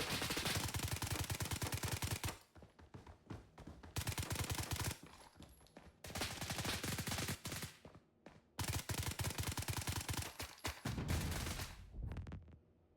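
An M16A2 rifle fires three-round bursts in the shooter game BRM5, with loud rapid cracks in repeated volleys separated by short gaps.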